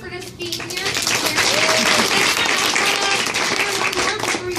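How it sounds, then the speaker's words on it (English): Seminar audience at a nutrition and motivation event applauding steadily, a dense, loud wash of clapping with cheers and voices mixed in, sustained for several seconds. "So clap it up for just being here"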